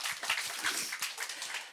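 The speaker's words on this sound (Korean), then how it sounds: "박수 나와야 될 것 같은데요" An audience applauds at an indoor humanities talk concert for office workers, a steady spread of many hands clapping, moderately quiet and continuous with no voices over it.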